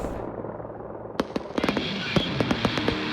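Fourth of July fireworks over New York City burst in a string of sharp cracks and crackles, sparse at first then quickening into several loud pops, fairly near with no voices.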